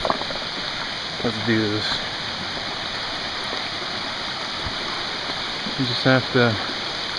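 Steady rushing water from a Finger Lakes waterfall and stream roars continuously up close while someone talks briefly over it.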